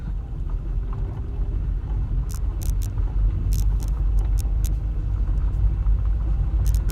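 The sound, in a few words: Volkswagen Jetta braking on a gravel driveway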